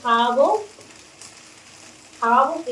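Curry cooks in a pot on the stove, a faint, steady sizzle that sits between two short bursts of a nearby voice at the start and end.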